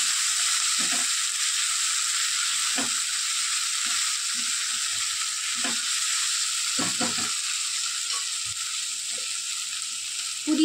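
Finely chopped tomato fries in a pan for a chicken thokku biryani, giving a steady bright sizzle throughout with scattered soft knocks and stirring clunks from utensils.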